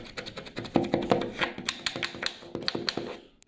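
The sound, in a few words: scraping drywall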